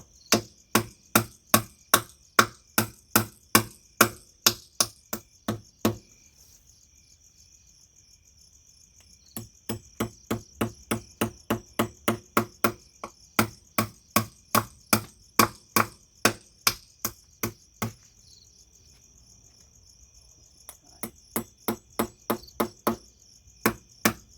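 Repeated hammer blows drive a post for an entrance gate in rural Thailand, sharp evenly spaced strikes in long runs with brief pauses between, loud and close over a steady insect chirr.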